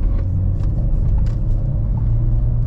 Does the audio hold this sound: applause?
no